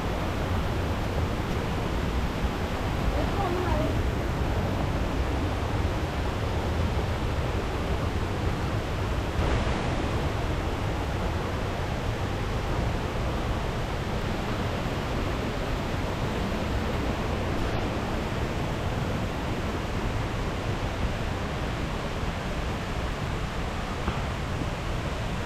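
A tiered waterfall at Lankagama on the edge of the Sinharaja rainforest roars as a dense, constant wash of rushing water, steady and unbroken throughout with no voices.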